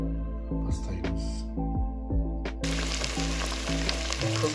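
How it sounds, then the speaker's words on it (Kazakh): Heart and kidney for Kazakh kuyrdak fry in hot oil in a pan, a constant sizzle that swells louder partway through, with clinks of a utensil and background tones early on. "Енді осыларды рет-ретімен қуыруды"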